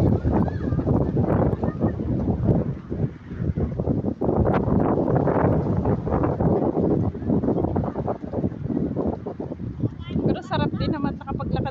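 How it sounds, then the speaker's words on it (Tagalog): Strong wind buffets the microphone in a steady low roar at an outdoor Christmas party, with people talking over it throughout. "Lakas ang hangin."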